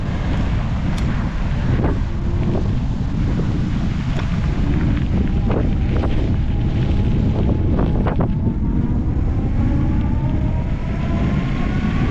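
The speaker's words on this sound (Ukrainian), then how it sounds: "І вітер знову мені." Loud, constant wind buffeting and roaring, with low rumbling gusts and occasional faint creaks throughout.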